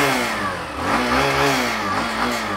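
A 125cc commuter motorcycle, one of several such bikes being compared, idles and revs with a steady, throbbing exhaust note that swells and eases slightly, heard close up with no talk.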